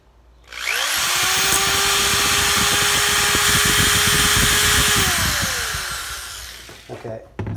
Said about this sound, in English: I'm going to take a small drill and just push through right end to end here